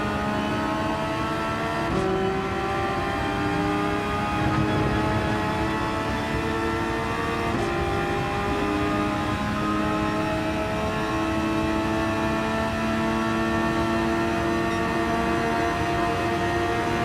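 Race car engines in Gran Turismo 7 at Interlagos, a continuous, loud, droning engine note with steady harmonic whine and slight pitch shifts as cars hold speed, no voices.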